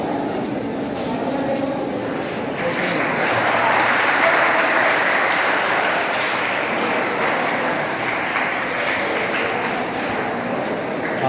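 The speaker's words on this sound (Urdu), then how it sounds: "سی او صاحب، ڈی او صاحب اور سینئر ہیڈ ماسٹر کے لیے تالیاں بجا کے استقبال کیا گیا۔" Steady, sustained applause from a crowd welcoming officials at a Teachers Day ceremony in a school hall, a dense wash of clapping that swells slightly and continues throughout, with faint talk underneath.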